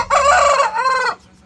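A rooster crows once, loud and close: a single drawn-out, strained call with a bright, harmonic-rich tone lasting about a second before cutting off into quiet.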